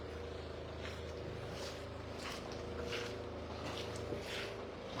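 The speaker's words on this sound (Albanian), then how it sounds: "Dëgjohen edhe britmat e motorëve të cilët qytetarët duan që të largojnë ujin edhe nga vendbanimet e tyre" Steady droning hum of water pumps running during flooding in a village, pushing floodwater away from homes, continuous and fairly distant with a faint windy wash.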